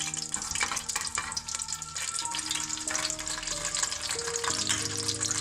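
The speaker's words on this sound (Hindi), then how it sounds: "2 से 3 मिनट हम ज़ीरे को हल्का सा फ्राई करेंगे हल्की आंच पर।" Cumin seeds frying gently in a pan over low heat for dry aloo methi, a close, continuous crackling sizzle with faint clinks of stirring.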